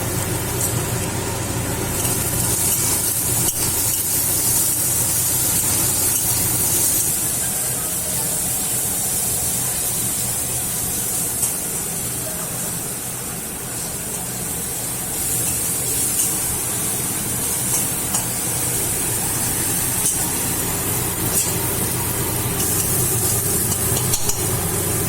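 Masala for chicken pakora frying in a pan with salt added, a continuous loud sizzle and hiss with faint stirring scrapes running steadily throughout, no voices.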